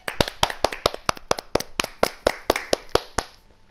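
A clapping emote plays in a video game, about twenty brisk, sharp hand claps in a quick steady rhythm that slows slightly near the end before stopping.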